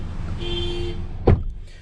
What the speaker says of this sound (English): getting back here in the Nissan Rogue and shutting the door